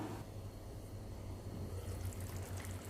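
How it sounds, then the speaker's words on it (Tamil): A steady low bubbling simmer of paneer gravy in a pan with soft liquid gurgles, continuous and close, with a faint hiss rising toward the end. "கொஞ்ச நேரம் கொதிக்கட்டும்."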